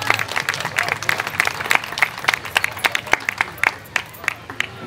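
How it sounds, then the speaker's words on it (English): Audience applause for a young artist at a school art event: a sustained crowd of hands clapping at close range, dense and lively, building and holding for several seconds. "let's give Noah a round of applause"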